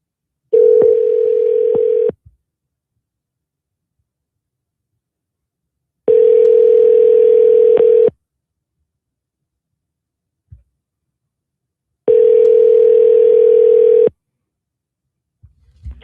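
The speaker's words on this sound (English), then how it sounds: "I'm calling you back right now." Telephone tones heard while calling a caller back: three identical two-second steady electronic tones, evenly spaced with silent gaps between them, clear and alone.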